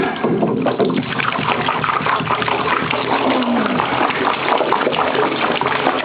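Tap water gushes and splashes steadily while a dirty bottle is rinsed out, a close, continuous rushing pour with no pauses.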